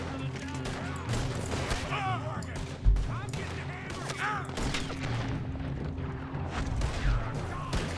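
A gunfight in the town of Rhodes in Red Dead Redemption 2, with repeated sharp gunshots cracking at irregular intervals amid a busy background and a heavy thump near the middle, while a person talks over it.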